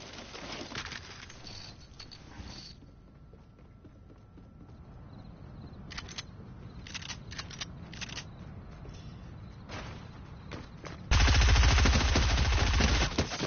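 Video game gunfire heard from indoors: scattered sharp shots and short bursts crack out at varying distances, then a loud, steady roar of noise takes over near the end.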